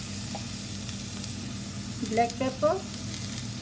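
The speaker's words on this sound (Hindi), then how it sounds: "पालक डाल दीजिए और इसको सौटे होने दीजिए।" Spinach sautéing in a pan gives a soft, steady sizzle with low hum beneath, while a voice speaks briefly over it near the end.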